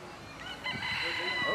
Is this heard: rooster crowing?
yes